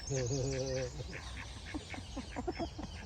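Ducks being fed in London give a short burst of nasal quacking up close, then people chatter over the birds' softer calls.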